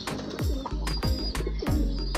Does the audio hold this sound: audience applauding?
no